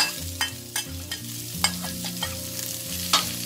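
Eggs, peanuts and fried garlic are stir-fried together in a pan, with a constant close sizzle and a regular series of sharp spatula scrapes against the metal.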